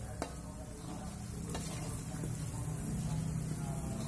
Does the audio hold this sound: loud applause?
no